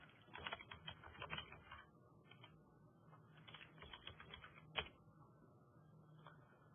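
Typing on a computer keyboard, quiet and close: irregular bursts of key clicks with short pauses, one sharper keystroke near the end, with no talking.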